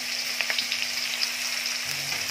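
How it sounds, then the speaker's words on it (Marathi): Finely chopped onion frying in hot oil, a steady close sizzle with a few small pops and faint stirring ticks, no talking, holding at an even level throughout. "आता यामध्ये बारीक चिरलेला कांदा घालायचा आहे."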